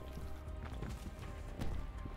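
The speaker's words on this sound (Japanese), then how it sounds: "これ忍者つけないとやっぱ足音でかいね。" Loud player footsteps in Call of Duty: Black Ops Cold War thud in a quick, steady rhythm over constant in-game music and ambience.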